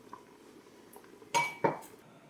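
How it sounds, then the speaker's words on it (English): A metal spoon clinks twice against a pot while skimming foam off simmering Persian saffron rice pudding, two sharp close knocks late on over quiet background. "you're gonna wanna grab a spoon and just kind of skim it off"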